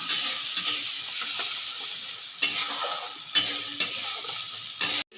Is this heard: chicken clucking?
no